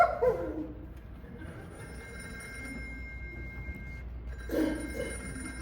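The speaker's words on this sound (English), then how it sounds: "just a minute, George, there's a call for you." A telephone bell rings in a staged radio play of It's a Wonderful Life, a faint, sustained ring running across the scene with louder sounds at the start and near the end.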